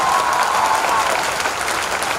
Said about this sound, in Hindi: अब तक की सर्वाधिक तालियां बजाइएगा